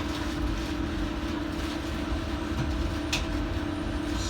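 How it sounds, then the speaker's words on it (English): A DLR light-rail train on the line between Stratford and Canary Wharf hums as it pulls away, with a steady motor drone and rumble heard from inside the cab. There is a brief click partway through. "Let me just get the train moving."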